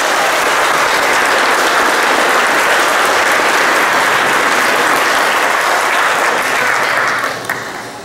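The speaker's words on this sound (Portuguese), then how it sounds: "Damos uma salva de palmas." Congregation applauding during a Catholic Mass at the Matriz church in Cabeçuda: dense, sustained clapping that fills the space for several seconds before tapering off near the end.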